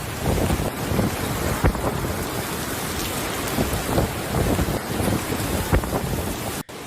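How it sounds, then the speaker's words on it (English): Strong typhoon wind in Taiwan roaring continuously into the microphone, a dense steady rush mixed with rain hiss and occasional gusty thumps, loud and close with no voices. "It's so windy now that I do not dare to go out and inspect my neighborhood, said Lin Sai-Wang"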